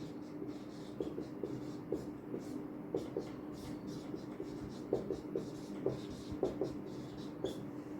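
A pen scratches across paper while an algebraic expression is written out, giving steady faint strokes with small taps over a low room hiss; no one talks.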